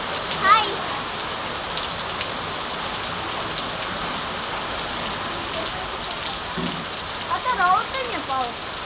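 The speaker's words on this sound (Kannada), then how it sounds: "ಜೋರು ಮಳೆ ಬರ್ತಾ ಉಂಟು ಅಂಗಳದಲ್ಲಿ" Heavy rain pours steadily onto an open courtyard in a dense, even hiss, with a few voices briefly audible nearby.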